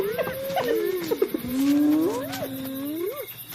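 A lone leopard snarls and growls up close while holding back a mob, with rising and falling throaty tones and sharp bursts that fill the few seconds.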